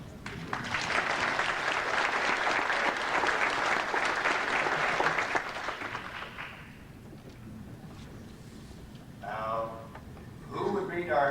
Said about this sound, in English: Have a round of applause for our chaplain,